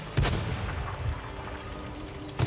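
Tank cannon fire in the World of Tanks console game, with two heavy low booms, one at the start and one at the end of a short span of steady engine rumble and battlefield noise.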